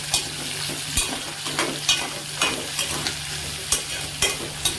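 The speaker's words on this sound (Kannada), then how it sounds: "ಅದನ್ನು ಎಣ್ಣೆಯಲ್ಲಿ ಒಂದು ಸ್ವಲ್ಪ ಬಾಡಿಸ್ಕೊಳ್ಳೋಣ" Chopped sour raw mango sautéing in hot oil, a steady close sizzle broken by repeated scraping strokes of a spoon stirring the pan, with no talk.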